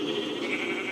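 A sheep bleats in a blocky video game farm lined with rows of colored sheep, one sustained wavering bleat heard clearly and alone.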